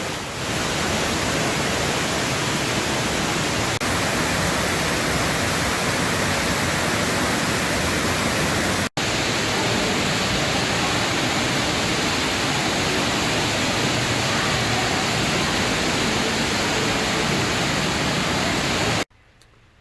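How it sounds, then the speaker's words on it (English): Constant rushing, splashing water from a newly installed vacuum shower filter spilling into a koi pond, loud and unbroken for nearly twenty seconds before cutting off. "sorry about the noise. Just installed a new vacuum shower on the pond."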